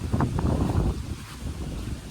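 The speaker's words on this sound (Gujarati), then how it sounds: "તો જો પવન લાગે છે." Strong wind buffets the microphone over a field, a loud low rumbling roar that gusts hardest at first and then eases slightly; no one speaks.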